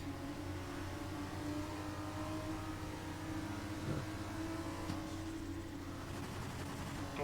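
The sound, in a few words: F1 car engine in racing video game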